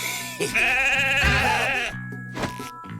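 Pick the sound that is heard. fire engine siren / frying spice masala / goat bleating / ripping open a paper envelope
goat bleating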